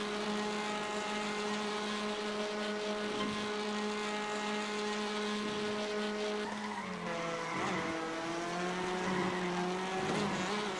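A boosted race car engine in the iRacing video game roars steadily and loudly throughout, its pitch rising and then dipping near the end with some tire skidding, with no talk.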